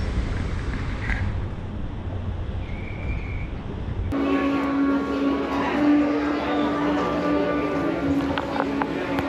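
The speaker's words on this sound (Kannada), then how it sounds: "ಈಗ ಸ್ಟಾಪ್ ಮುಗಿಸ್ಕೊಂಡು ಹಂಗೆ ಸಡನ್ ಡಿಪಾರ್ಚರ್ ಆಗಿದೆ ಟ್ರೈನು" Train No. 16219 is pulling away from Chamarajapuram station. A steady rumble of the rolling train grows louder partway through, with a sustained tonal whine and faint clatter, heard from on board.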